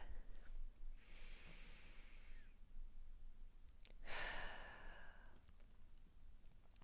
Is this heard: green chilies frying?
no